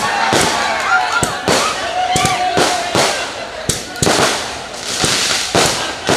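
Firecrackers burst in a rapid string of sharp, loud cracks at an outdoor stage comedy show in Rongamati, with a voice talking over the bangs and a crowd faint behind.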